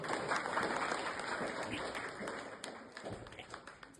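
Villagers at a gram sabha in Hathaura Sarai, Pratapgarh, clapping for the opening of a digital library, a dense, lively round of applause that stays up close and loud for the whole stretch.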